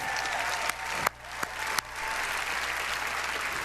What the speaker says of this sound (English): Could I please have another round of applause